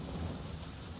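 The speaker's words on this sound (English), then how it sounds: "It always rains when I go on an adventure. Don't stand too close to me, or you might get hit by lightning." Thunder and pouring rain in the video game Genshin Impact, a brief, loud burst of deep rumble blended with dense rainfall, with no talking.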